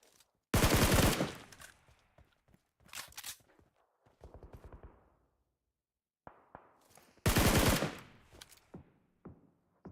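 Bursts of automatic gunfire in PUBG Mobile during a competitive esports grand final, with loud rapid volleys near the start and again around eight seconds, separated by quieter single shots and footsteps.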